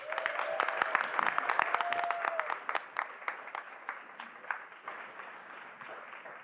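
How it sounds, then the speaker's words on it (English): An audience at a school board meeting applauds in a loud, dense burst of clapping that thins into scattered claps as it fades. A brief tonal sound is heard early on. "let's give them another round of applause"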